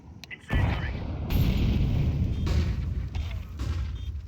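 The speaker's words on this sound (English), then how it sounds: "Grenade out. Incendiary." An incendiary grenade goes off in a shooter video game: after a few faint clicks, a loud burst erupts and settles into a sustained roaring, crackling burn that fills the rest of the moment.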